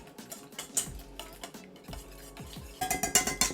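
Egg and potato omelette mixture with onions, pepper and salt being stirred in a bowl, producing soft, irregular clinks and scrapes of a utensil against the dish, quiet and close, with a brisker burst of tapping near the end.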